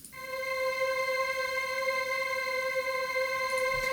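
A steady Serum synth drone built from two saw waves, soaked in Valhalla Supermassive reverb, holds one rich buzzing tone for several seconds, sustained and even with no other sounds.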